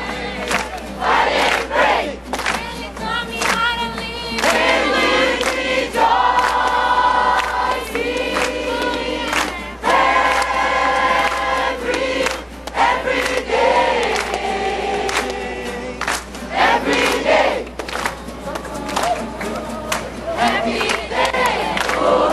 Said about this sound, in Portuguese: E vamos ouvir um pouquinho eles cantando no comando do maestro Jaconias.